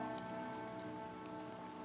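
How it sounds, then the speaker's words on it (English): Steady rain falls on surfaces in the video game Dying Light 2, a dense, even hiss of drops that stays constant and fairly quiet throughout, with no talking. "Oh, it's raining!"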